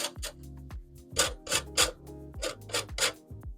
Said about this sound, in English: So the zest of a whole lemon.